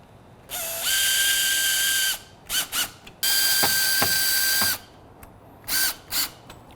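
Ratchet wrench tightening the retainer screws on a Toyota headlight, heard as several bursts of fast clicking: two long runs, then a few short spurts, close and loud with no talk.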